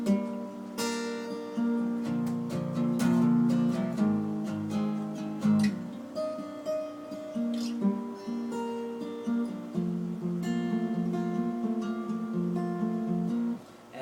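Guitar picked and strummed through a chord progression, with sustained plucked notes ringing and layered over each other at a steady, moderate pace for the whole stretch, near and fairly loud with no talking.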